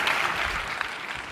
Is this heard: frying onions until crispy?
no